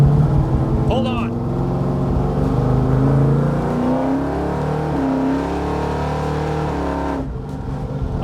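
A 1978 Chevrolet Malibu engine runs with a steady, loud low rumble and rising revs throughout, while a person talks over it.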